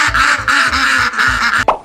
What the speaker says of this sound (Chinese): 一群鸭，嘎嘎嘎，